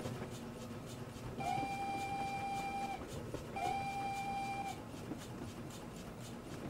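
A steam locomotive on the West Somerset Railway in Train Simulator 2014 sounds two drawn-out whistle blasts over a low, steady running rumble, with no voices.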